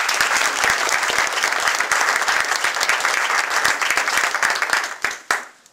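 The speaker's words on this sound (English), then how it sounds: "Big round of applause for Scott." Applause fills a room at a Carolina Dynamo press conference: a dense, steady round of clapping from the audience that thins and ends with a few last claps.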